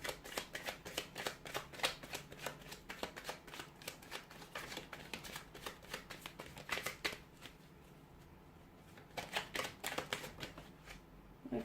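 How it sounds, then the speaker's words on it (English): Rapid, repeated riffling of tarot cards being shuffled close up, in bursts with brief quiet pauses between them. "I'll go ahead and give the cards a shuffle"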